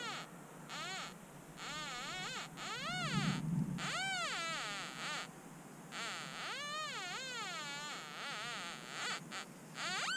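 Metal detector pinpointer sounding off outdoors, rapid warbling electronic tones rising and falling in repeated bursts with short gaps, with a brief low voice partway through.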